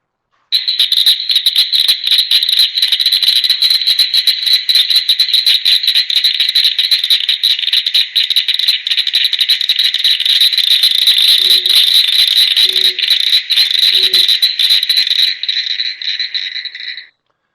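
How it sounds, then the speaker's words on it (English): A cricket frog calls in a rapid, continuous rattling series of clicks, loud and close, for well over fifteen seconds before it stops abruptly. A few faint low blips sound near the end. "here's the cricket frog"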